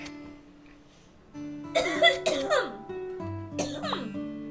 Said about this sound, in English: the danger cough